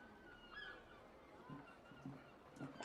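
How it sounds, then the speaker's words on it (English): Seagulls call in the background, faint honking cries that come in several short bursts over a low room hum, distant rather than close. "I hear seagulls in the background."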